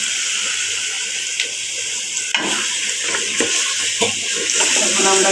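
Meat dropped into spiced masala for kacchi biryani hits the pan with a loud burst of sizzling, followed by close scraping stirs under a bright, continuous fry.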